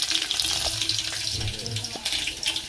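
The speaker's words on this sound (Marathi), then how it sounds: "मस्त तरी तरतरून फोडणी पडली आहे लसूणीची" Garlic tempering crackles and hisses in hot oil as a continuous bright sizzle, with faint low murmurs and clatter behind it.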